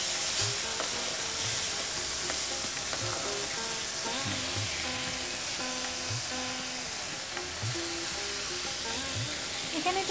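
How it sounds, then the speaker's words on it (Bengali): Lemon pieces for a lemon pickle sizzle in hot oil seasoned with a pinch of asafoetida, a steady loud frying hiss with scattered stirring clatter throughout, and faint background voices. "এর মধ্যে লেবুগুলো ঢেলে দাও।"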